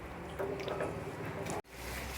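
Chicken is stirred into a wet green masala with about a cup of water in a pan, giving soft, squishy, liquid sloshing sounds, fairly quiet and close, with a brief dropout near the end.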